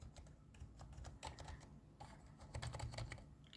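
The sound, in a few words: keys being pressed on a computer keyboard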